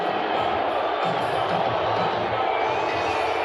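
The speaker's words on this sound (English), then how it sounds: "Now, there's a lot of cheering." A crowd at a Trump event sends up dense, steady cheering and noise that fills the space continuously, loud and sustained without a break, with speech mixed in underneath.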